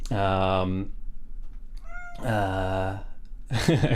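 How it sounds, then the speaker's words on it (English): A pet cat meows loudly and close up, with two long drawn-out meows and a shorter third call, and a brief tonal squeak between them. "Cat reveal indeed. My beautiful baby boy who's being very noisy. I can hear him."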